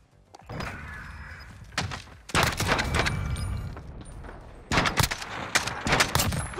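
Pistol shots ring out in a Modern Warfare search-and-destroy round as a player rushes two enemies, sharp bursts and rapid volleys coming in clusters against in-game noise, loud and close.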